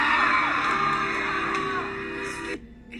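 A man screams at a concert, a long, loud, sustained yell over a crowd noise that cuts off abruptly near the end, leaving a quieter hall.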